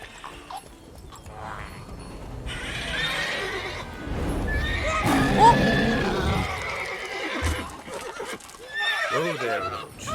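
Roach, the horse in The Witcher 3 near the fortress of Kaer Morhen, gives a mid-clip neigh amid game ambience and music, with hoof clip-clops and voices talking over and around it.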